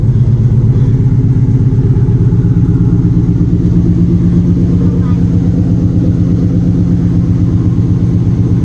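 A Trans Am fitted with an LS6 intake and long-tube headers idles while warming up on a cold start, a loud, steady, close engine rumble with an even low pulse throughout.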